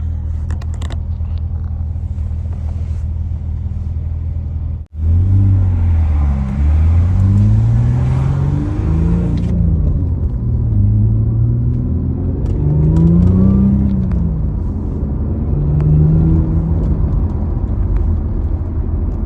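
A stage 2 Audi B5 S4 engine drones loudly from inside the car while driving, with a deep steady rumble. A brief dip comes before rising and falling revs as the car shifts through gears.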